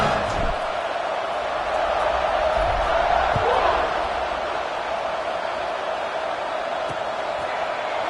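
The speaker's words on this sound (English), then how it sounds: "this crowd is buzzing after that last score" Football stadium crowd at an Illini game buzzing after a touchdown, a steady loud roar of many voices holding through the whole stretch, with a few brief thumps rising above it.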